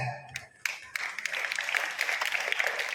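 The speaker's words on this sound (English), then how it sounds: "Let us give a big round of applause." Audience applause at a school grand opening ceremony, a fairly faint patter of many hands that builds after a short lull and continues steadily.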